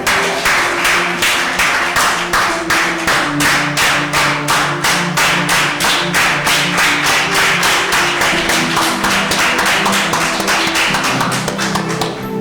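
A church congregation claps in steady unison, a loud, even rhythm of roughly three claps per second that continues throughout, with a faint sung or hummed tone underneath.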